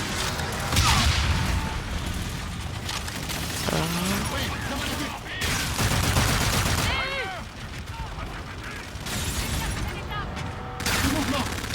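Rapid laser gunfire and explosions in the shooter game Call of Duty: Infinite Warfare, loud and continuous with whooshing sweeps and booms, someone talking over the action.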